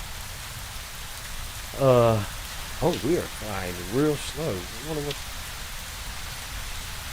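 Steady rain falls in the Space Engineers world, a constant hiss across the clip while someone talks over it.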